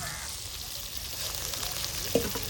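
Masala sizzles and fries steadily in a pan for a curry, a continuous hissing crackle with a brief stir clink near the end.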